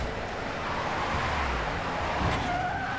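A car in The Wolf Among Us video game, continuous engine roar and road noise with a brief low skid-like rumble midway, loud and close, without talk.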